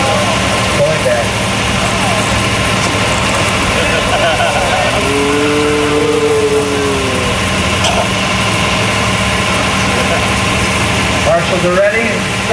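Monster truck engines rumble steadily at a 1993 championship event, a loud continuous drone with a brief rising rev partway through, under scattered announcer talk.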